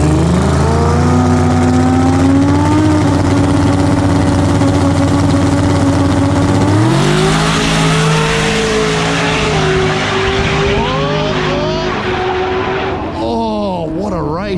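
Two street race cars on 275 tires roar from the line side by side, a loud engine drone that jumps in pitch and then climbs steadily as they accelerate away.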